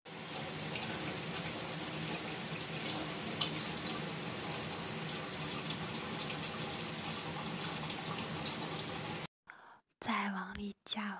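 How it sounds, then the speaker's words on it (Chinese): Tap water runs steadily into a cooking pot for several seconds, a constant close hiss and splash that cuts off near the end, followed by brief clinks and handling sounds. "换锅把它里面加水，因为里面要加很多水"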